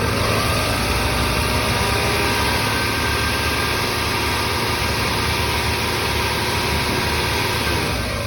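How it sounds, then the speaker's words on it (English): A close, loud car engine runs steadily with headlights on, constant vibration and a high mechanical whine, holding an even pitch throughout. "we're going to rev the engine again"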